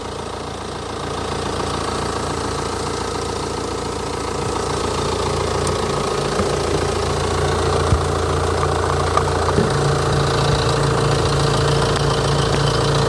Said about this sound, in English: here the engine sounds very normal